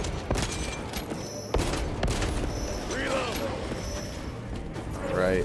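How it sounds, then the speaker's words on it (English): Pistol shots fired in the video game Warhammer 40,000: Space Marine 2, a few sharp cracks over mechanical clanks and game effects, with a voice talking. "Take him out with the pistol."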